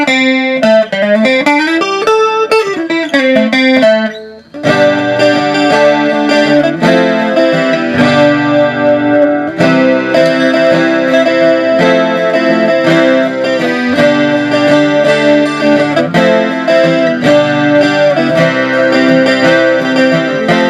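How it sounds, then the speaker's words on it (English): An acoustic guitar is played through a VOX AGA 70 acoustic amp with the chorus effect on and reverb off: a strummed and picked passage, loud and sustained, with a brief pause early on; no talking. "I will now turn the reverb off and turn the chorus on."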